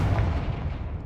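A Confringo blasting spell goes off in Hogwarts Legacy, a heavy booming burst with a rumbling low-end tail that fades over about a second.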